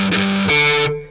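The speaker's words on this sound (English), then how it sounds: "which we put through distortion." An Omnisphere 2 synth sample is put through distortion, giving a bright, buzzing, harmonically dense tone that holds one pitch, shifts to a second note halfway, then cuts off.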